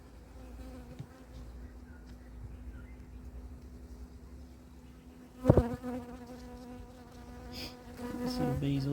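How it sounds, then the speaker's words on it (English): Honey bees buzz steadily during a honey harvest, a low hum close by, with a few sharp handling knocks partway through and louder buzzing near the end. "We'll probably end up with a bee or two in there."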